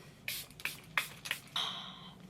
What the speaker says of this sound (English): we're just gonna finish off with a little bit of setting spray